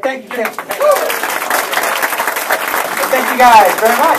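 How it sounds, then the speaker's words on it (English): Audience at a Virginia campaign rally applauding during a standing ovation, steady clapping and crowd noise throughout with a speaker talking over it. "Thanks for the standing ovation"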